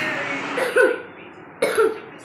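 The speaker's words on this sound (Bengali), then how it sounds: "এবার সাথে সাথে কাশি হচ্ছে" Two short, close coughs about a second apart, each a sharp burst with a throaty tail, after a cough brought on by sitting in air-conditioner airflow.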